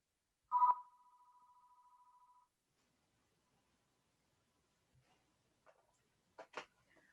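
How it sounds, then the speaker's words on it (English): A telephone gives a sharp tone followed by a steady thin ring lasting a couple of seconds, then cuts off. A few faint clicks and knocks follow in near silence. "I just hung up that phone"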